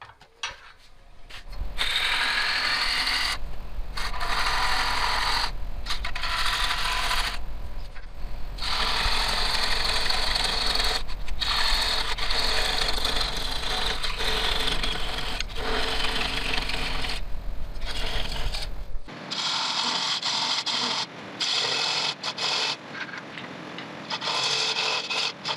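A wood lathe spins a thin-bottomed bowl while a tool cuts a small tenon into its base, giving a steady close grinding rub with brief pauses, then a quieter, thinner ending stretch.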